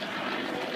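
Propeller airplane, a Red Tail warbird, passing at a St. Louis fair air show, a steady broad engine roar holding constant and fairly loud throughout.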